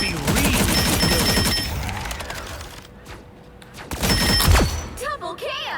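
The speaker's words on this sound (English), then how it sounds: "So, Rocket has his, of course, his regular projectile weapon." Rocket's projectile weapon in the video game Marvel Rivals fires in rapid bursts, a dense rattling volley that stops, then a second loud burst with heavy thuds, mixed with game effects.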